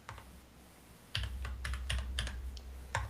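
Keys clatter on a computer keyboard in short irregular bursts of typing, close and fairly quiet, with no talking.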